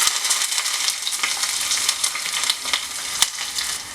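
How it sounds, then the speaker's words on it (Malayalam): Steady, loud sizzling of garlic and shallots frying in hot oil, with constant crackles and a few sharper pops, no voices. "രണ്ട് മൂന്ന് വെളുത്തുള്ളി നാലഞ്ച് ചെറിയ ഉള്ളി ഇട്ട് മൂപ്പിച്ചെടുക്കാം"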